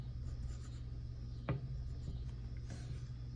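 Pencil sketching on paper: a faint, close, continuous scratching of graphite strokes with one slightly sharper stroke partway through, heard alone.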